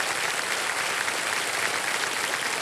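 A studio audience on the KBC quiz show breaks into dense, loud applause welcoming a contestant's family, a continuous wash of clapping with no voices over it.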